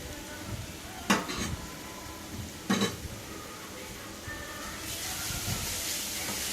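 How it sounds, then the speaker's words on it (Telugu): Grated carrot frying in a pan for carrot sabudana halwa, a soft steady sizzle broken by two sharp clinks of a spoon against the pan, hissing building louder near the end. "క్యారెట్ కూడా వేసి ఇది పచ్చివాసన పోయేదాకా బాగా ఫ్రై చేసుకోవాలి"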